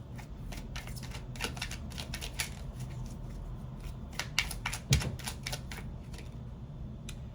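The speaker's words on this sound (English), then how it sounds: "I like for you guys to see me shuffle the cards" Crisp riffling bursts of tarot cards being shuffled, several quick flurries with short pauses between, close and fairly quiet.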